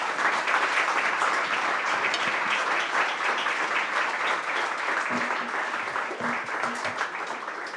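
Sustained audience applause at a conference keynote as a professor is welcomed on stage, a dense, steady wash of many hands clapping that fills the whole stretch and tapers slightly near the end.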